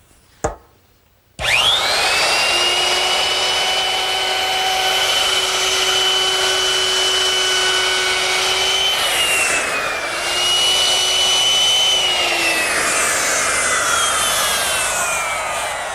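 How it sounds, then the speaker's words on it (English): A router fitted with a 1/4 inch round-over bit eases the back edges of a wooden mirror frame, a loud, steady high whine that starts abruptly after a short click and holds on, its pitch dipping slightly partway through. "With another router bit change to a 1/4 inch rounding over bit, I can now ease the back edges of the frame."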